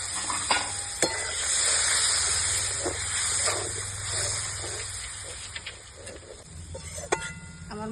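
Water splashed into spices frying in a pan gives a loud, steady sizzle throughout, with stirring scrapes and a few clinks on top. The spices include chilli powder and Kashmiri chilli powder, cooked for a pangas fish curry.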